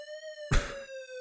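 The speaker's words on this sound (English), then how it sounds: "I'm just sitting here listening to an alarm." An electronic alarm pulses in the NES game Metal Gear, a rapid repeating tonal beep with bright harmonics, briefly covered by a short noisy burst partway through.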